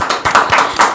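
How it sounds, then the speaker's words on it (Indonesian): A short burst of hand clapping, a few sharp claps close by, at a talk show honouring a designer's award. "Tepuk tangan dulu buat Mbak Iko nih."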